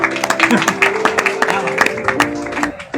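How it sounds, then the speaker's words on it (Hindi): Scattered clapping from an audience at a Dastangoi storytelling performance on Sahir Ludhianvi in Nanded, quick irregular claps over a murmuring crowd with some voices mixed in. "साहिर साहब के लिए तालियां बजाओ यार"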